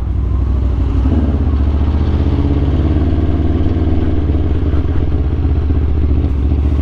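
An Aprilia RSV4 superbike is ridden, its engine a loud, steady, throbbing drone close by that holds for the whole stretch without a break.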